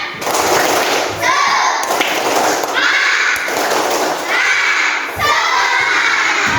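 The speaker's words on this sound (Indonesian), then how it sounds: "Tepuk semangat." A classroom of children perform a rhythmic spirit clap, loud bursts of clapping and shouting in repeated patterned phrases with brief pauses between.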